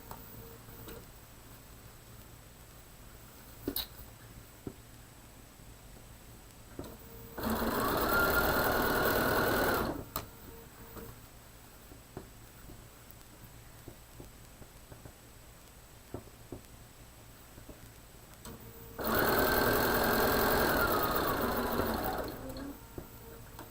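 A Bernina sewing machine runs in two steady bursts of about three seconds each, stitching a quarter-inch seam on a quilted cushion, with quiet handling clicks and fabric shuffling in the gaps between.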